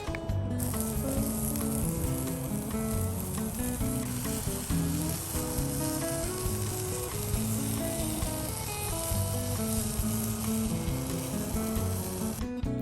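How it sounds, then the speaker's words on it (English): Turkey burgers sizzle on a grill in a steady, loud hiss that runs unbroken from start to finish, with faint background music underneath. "First thing I did was grill my turkey burgers."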